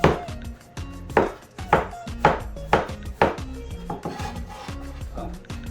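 A knife slices squid very thin on a board, close and fairly quiet, in a quick series of soft cutting strokes.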